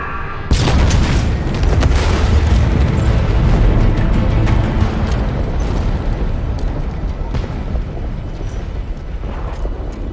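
Anti-aircraft gun generator exploding in Halo Infinite: a loud, deep boom bursts in abruptly, then rumbles and crackles with debris for several seconds, slowly thinning out.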